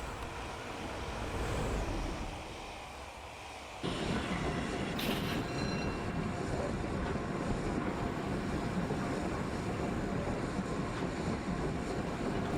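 An LNER A2 Blue Peter steam locomotive in Train Sim Classic rolls on with a continuous loud rumble of wheels and track noise, a brief hiss, then a steadier heavier roar as braking begins, with no talk.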